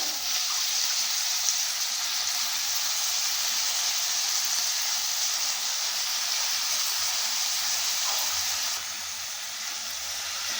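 Broad beans sizzle in a hot oil tempering with a loud, continuous hiss that holds steady, then drops slightly near the end.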